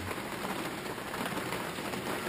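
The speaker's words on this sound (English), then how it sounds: "got a thunderstorm above us. It's big splodgy rain." Heavy thunderstorm rain falling steadily as a dense, even hiss of drops with no other sounds, fairly faint and continuous.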